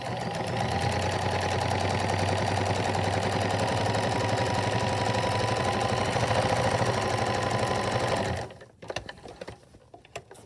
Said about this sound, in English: now I'm going to be sewing the hems down